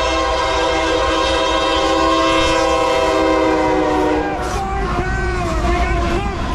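BNSF GE ES44 locomotive in pumpkin orange livery, model year 2012, leading a slow Norfolk Southern freight at restricted speed, its multi-chime horn blaring loud and close for about four seconds before breaking off into the rumble of passing wagons.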